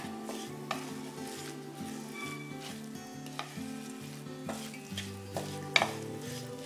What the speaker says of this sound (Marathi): हे आता मिश्रण छान एकजीव होऊन कढईतनं पूर्ण सुटेपर्यंत आपल्याला थोडं परतून घ्यायचंय